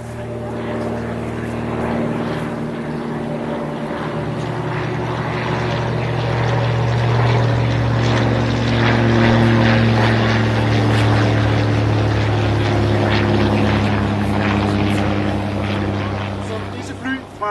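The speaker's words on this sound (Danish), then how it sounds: "Disse fly fra Flyvehjemmeværnets flyvende delinger netop har passeret os i lavt højde" Low-flying propeller airplanes of the Danish Home Guard air wing pass overhead at a memorial parade, a loud, sustained engine drone that swells and fades over a crowd.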